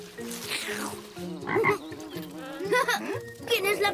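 Large pet frog in a Maya the Bee cartoon croaking in a series of throaty, warbling calls, loud and close, with short pauses between bursts.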